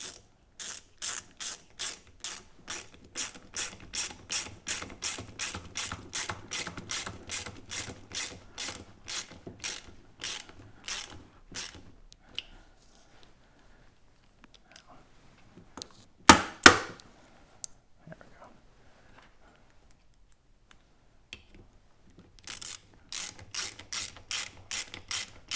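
Ratchet tightening bolts on a Hobie 360 kayak drive, with long runs of rapid, even clicking strokes, close by, broken by a pause and a brief clatter before the clicking resumes.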